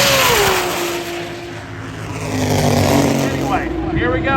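A drag racing car's engine roars close by as it is driven out to the strip, revving up and down in a continuous loud drone, with voices over it near the end.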